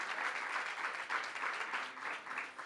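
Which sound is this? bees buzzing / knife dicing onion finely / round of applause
round of applause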